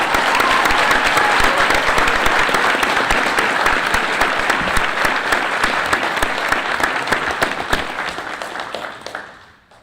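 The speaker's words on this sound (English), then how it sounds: "So big round of applause for these guys." Sustained applause from a school board meeting audience in the Bastrop ISD boardroom, a dense steady clapping that holds for nearly ten seconds before tapering off at the end.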